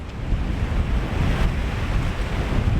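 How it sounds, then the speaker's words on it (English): Strong gusts of wind buffet the microphone while high-tide waves crash and roll in steadily at Kildonan, Isle of Arran, a constant loud rush with no voices. "I'm facing full frontal onto the wind now. There'll be quite a lot of wind noise."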